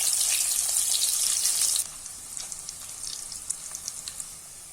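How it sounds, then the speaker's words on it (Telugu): Fish pieces deep frying in hot oil give off a loud, dense sizzle that drops to a softer, steady bubbling crackle with occasional pops. "ఇలా బాగా ఫ్రై అవ్వాలండి."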